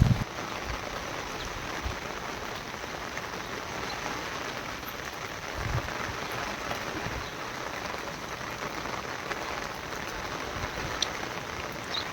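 Heavy rain pours down in a steady, dense, unbroken hiss that holds at an even level throughout, with occasional louder drops standing out from the wash.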